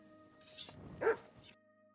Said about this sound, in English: You silly doggy.